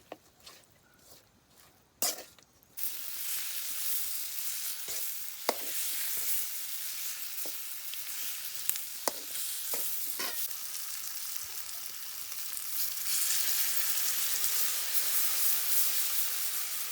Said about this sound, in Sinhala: හරි අපි දැන් මස් ටික දාගන්න යන්නේ.